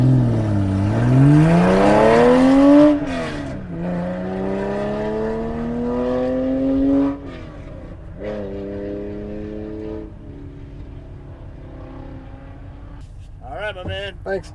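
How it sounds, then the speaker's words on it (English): A mid-1960s Porsche 904 race car pulls away on a track at Utah Motorsports Campus, its engine rising through revving gear changes, loud at first and then fading, with a voice speaking over it. "behind that Porsche 904 from the mid-60s. It's a real treat to watch and listen to it take off."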